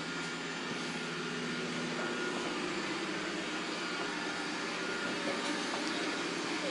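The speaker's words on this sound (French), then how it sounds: "il a bien détecté le tapis, donc il s'est mis à aspirer fort et à relever les brosses." A Dreame L10 Prime robot vacuum running on carpet at strong suction, a steady, fairly quiet whirring drone with a constant airy hiss that holds throughout.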